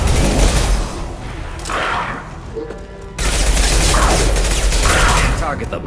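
Grenade blast in Mass Effect 2 set amid sustained loud gunfire, with a sharp burst of explosive noise partway through and continuous battle din before and after, voices shouting over the combat.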